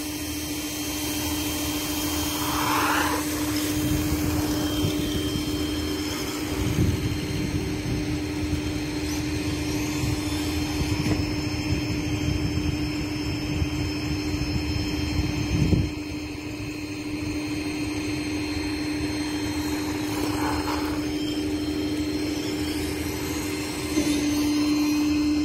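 A Traxxas E-Revo 1/16 VXL RC car with a 3S battery runs fast on pavement at full throttle, giving a steady, loud electric whine and whir that holds nearly constant with slight surges.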